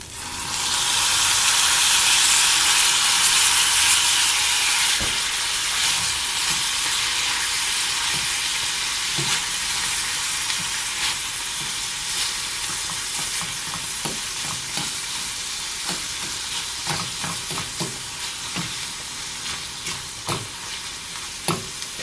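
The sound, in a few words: sardines frying with onions and peppers in olive oil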